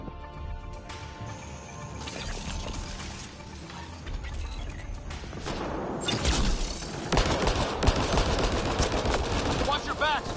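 Gunfire in the video game Mass Effect Andromeda, a busy stream of mechanical clicks and shots that grows louder and denser partway through, with voices in the mix.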